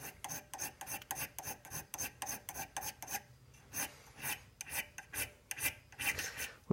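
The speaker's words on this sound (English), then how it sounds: "With files, you're supposed to go one direction." Metal file rasping burrs off brass stock in a metalwork lab, rhythmic back-and-forth strokes repeating at a steady pace, close and clear with no voices.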